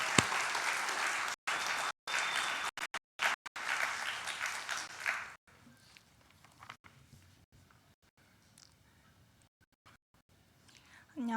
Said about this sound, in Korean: 우리 유주영 자매 박수로 환영하겠습니다